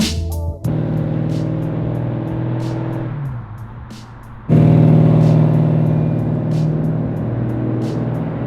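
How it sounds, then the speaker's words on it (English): A 1968 Plymouth GTX muscle car's engine rumbles steadily as it cruises by, its low throbbing idle dipping briefly before swelling louder again. "Chris, your car just cruises great, dude."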